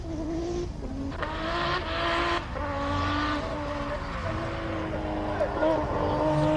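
A race car launches at the Simola Hillclimb, its engine revving loudly in sustained, shifting tones with tire noise and a crowd murmuring around it, while commentators talk over the sound.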